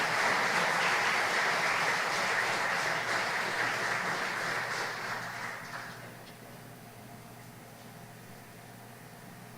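Sustained audience applause at a Belizean tribute ceremony honouring an awardee, a dense wash of clapping that holds steady for several seconds, then thins and fades into quieter room noise.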